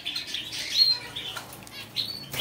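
Caged goldfinches flutter their wings in repeated short bursts of flapping, close by, with a few faint chirps mixed in and no talking.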